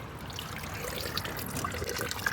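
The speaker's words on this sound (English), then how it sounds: "We are bleeding the system right now, so we're putting distilled water in to wash everything out." Distilled water pours and trickles steadily into the cooling system of a Nissan S13 during bleeding, a close, continuous liquid splash with no talking.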